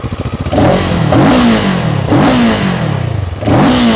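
Close, loud CFMOTO 700 CL-X motorcycle revs: a rumbling idle flares up into three sharp throttle blips, each dropping back to a burbling exhaust.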